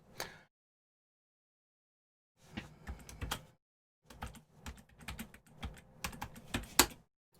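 Bursts of fast typing on a computer keyboard, close and fairly quiet, broken by a long pause, then renewed rapid key clatter with a few sharper key strikes.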